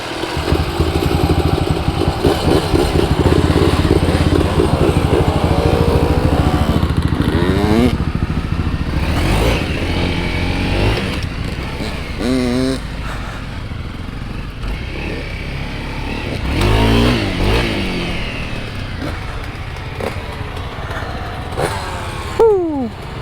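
A Honda CRF250L dirt bike pulls away onto a trail, its engine loud and close, revving through gear changes with rising and falling pitch, then easing off as it moves along.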